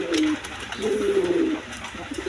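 Cooing from a healthy pigeon at a market seller's stall, two drawn-out coos close by, the second longer, over a busy background of other birds.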